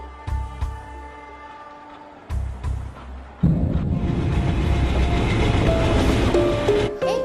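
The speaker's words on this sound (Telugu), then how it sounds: "ట్రైన్ మూవ్ అవుతుంది." A train gets underway: after quieter moments with brief low bursts, a loud continuous rumble and clatter builds from midway and keeps going to the end.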